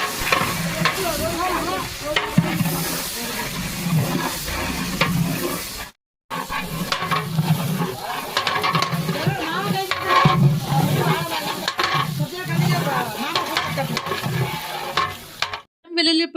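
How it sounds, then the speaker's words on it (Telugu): Masala paste sizzles and fries in a pan while being stirred to cook off its raw smell, a loud continuous crackle with scraping stirs and one brief pause. "దీనిలోకి ట్రాన్స్ఫర్ చేసుకొని పచ్చి వాసన పోయేదాకా మంచిగా ఫ్రై చేయాలి."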